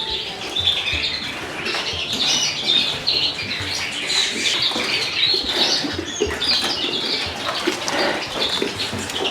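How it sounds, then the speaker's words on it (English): Young redpolls in a flight cage flapping their wings as they are caught: continuous fluttering wingbeats and scuffling, close and fairly loud, with occasional small squeaks mixed in. "I'll catch them up now, get them into show cages"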